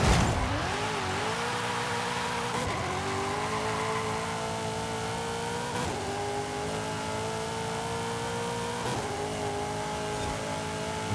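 A car built for drag racing in a video game accelerates hard, its engine climbing in pitch through repeated gear changes with clear breaks between each rising sweep, loud and alone.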